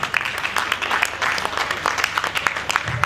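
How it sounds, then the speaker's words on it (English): Audience at an investiture ceremony clapping steadily in a dense, continuous round of applause, fairly close, with murmured voices mixed in. "Please a round of applause for him."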